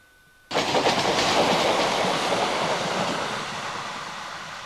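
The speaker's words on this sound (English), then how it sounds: "Locomotives are often stabled at Earl's sidings, and here is 66552." Class 66 diesel locomotive 66552 rolls past on the line near Earl's sidings, starting abruptly with a loud close broadband roar and rhythmic wheel clatter that holds steady and eases slightly as it passes.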